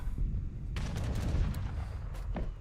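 Mortar and culverin artillery fire in Age of Empires 3 Definitive Edition, heard as a fairly faint, distant battle with scattered cannon reports and rattling bursts over a low rumbling mix.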